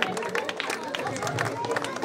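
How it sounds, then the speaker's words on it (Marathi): A crowd clapping for a prize winner at an awards event, with a busy burst of applause mixed with chatter and voices nearby. "निशिता, जोरदार टाळ्या वाजवा यांच्यासाठी"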